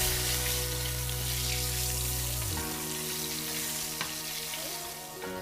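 Nile perch sizzling as it pan-sears in hot oil, a steady crackling fry that carries on with small pops, faint stirring and some background hum, with no talking.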